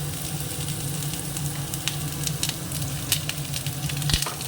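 Mango pieces sizzle and fry in a pan while being stirred for a chutney, a steady close crackle with scattered scraping strokes and no voices.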